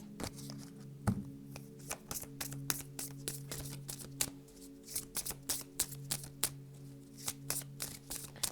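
Tarot cards being shuffled by hand, a quiet close series of crisp riffling snaps and soft slides arriving in an irregular rhythm throughout.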